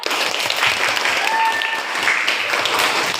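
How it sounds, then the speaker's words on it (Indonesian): Loud, dense clapping from a classroom of students, sustained evenly throughout with a few voices faintly mixed in. "Tepuk tangan dong"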